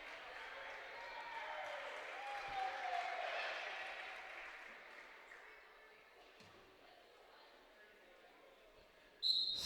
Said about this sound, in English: Northern Valley faithful cheer her and Mary Baird.